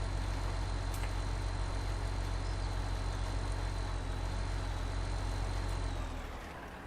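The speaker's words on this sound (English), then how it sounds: "Let's go try our new big tractor." A big tractor idles in Farming Simulator 19, a steady low diesel rumble with a faint high whine that holds for several seconds, then drops away abruptly near the end.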